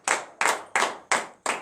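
A church congregation at a morning prayer service claps in unison, five sharp group claps in a steady slow rhythm, fairly close and loud, each one ringing briefly before the next.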